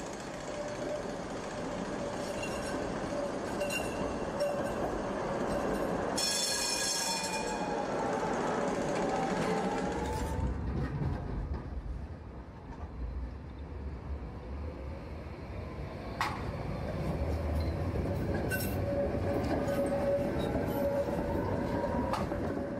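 A Tatra T3 tram arrives at the main railway station, a continuous loud rumble of wheels and motor with screeching, clanking rail noise and a high whine as it rolls in and slows.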